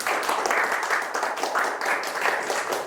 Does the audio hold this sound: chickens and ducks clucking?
no